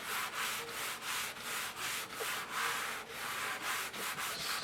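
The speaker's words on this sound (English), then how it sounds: "A lot easier to sand them all at once this way than having to try and sand them later." Rapid back-and-forth sanding strokes on a batch of model rocket fins, sanded all together for an Estes Tandem-X build, a steady rhythmic scraping repeating about every half second, close and loud with no talking.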